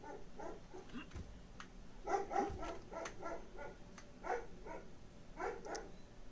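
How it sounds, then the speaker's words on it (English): A dog barks in a quick series of short yips and barks, fairly faint and from some distance off, with pauses between the bursts and a low background hum. "Dog barking, sorry."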